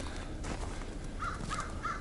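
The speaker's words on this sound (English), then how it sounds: "Crows, magpies, the blue jays, they've all been around." Crows cawing outdoors in cold, snowy weather, a few short harsh caws arriving one after another late in the clip over a steady background hiss.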